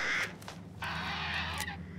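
A bird caws in the video game Resident Evil Village, with a short call followed by a longer, harsher cry. The calls are loud and close, with a low game hum underneath.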